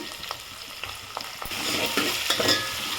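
Onions, curry leaves and green chillies stirred in a hot oiled pan, a close sizzle under repeated spatula scrapes that grows louder and busier halfway through, no voices.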